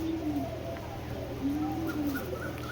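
Racing pigeons at a breeding farm coo in repeated low, soft phrases, several overlapping calls rising and falling over a steady background hum, fairly close.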